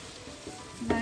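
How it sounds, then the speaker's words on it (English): Rioja-style cod sizzling and frying in a pan as it is stirred, a dense, close, steady crackle and hiss with a brief louder scrape near the end. "let's give it a stir."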